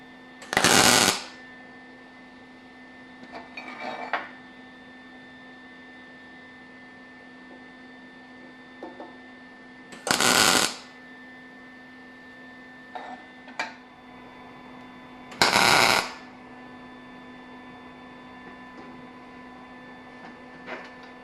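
Tack welds on steel brake-formed bends: three short, loud crackling bursts about a second each, spaced several seconds apart, with faint clicks and a steady background hum between them and no speech.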